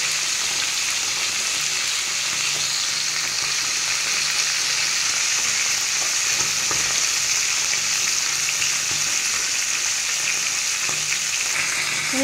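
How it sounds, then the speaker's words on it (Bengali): Tilapia fish frying in hot oil gives a loud, steady, close sizzle that holds evenly throughout, with no voices. "মাছটা আমার ভাজা হয়ে গেছে"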